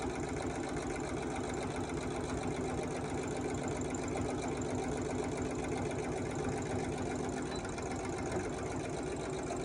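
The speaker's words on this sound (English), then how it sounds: "you're just going to sew around the curve." Sewing machine running continuously as it stitches around the curve of a fabric face mask, a steady close mechanical whir with rapid even needle rhythm for about ten seconds, no talking.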